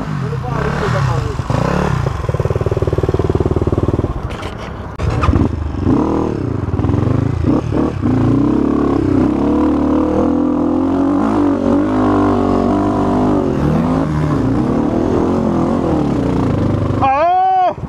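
A Honda CRF 250F dirt bike runs on a trail, its engine note rising and falling with repeated revs and gear changes up close, with a voice talking over it at times.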